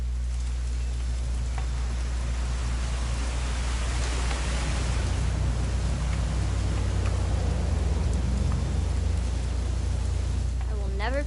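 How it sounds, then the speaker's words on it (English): Steady rain hisses and patters in a video game scene, a dense, continuous wash over a low rumble. Faint voices talk beneath it. "It's gonna rain the whole weekend,"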